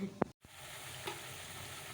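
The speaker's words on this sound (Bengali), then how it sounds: "একটু আলু ভেজে নিচ্ছি" Potatoes fry in a pan with a soft, continuous sizzle, broken by a brief stirring scrape and a short pause early on, faint and close with no talk.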